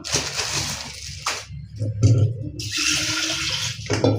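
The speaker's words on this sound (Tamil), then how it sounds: "தண்ணி விட்டு ஒரு 2 டைம் கழுவிடுவோம்." Tap water runs steadily into a bowl while green gram is rinsed in a home kitchen, a continuous close splashing flow with brief pauses and clunks as the bowl shifts.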